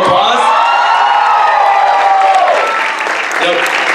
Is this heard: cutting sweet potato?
no